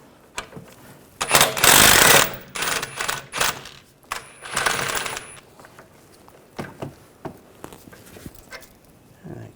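A car suspension bolt on a 2006–2010 BMW 550i being removed with an 18mm socket. Bursts of loud mechanical rattling and whirring come from a power tool, followed by scattered clanks and clicks close by.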